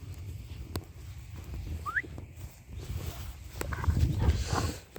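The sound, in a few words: short recall whistle for a dog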